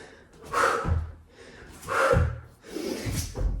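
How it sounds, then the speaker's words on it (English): Three forceful, noisy exhales during yoga HIIT hops, each a breathy huff about a second and a half apart, close and clear, with no talking. "Nice noisy exhales on the pops."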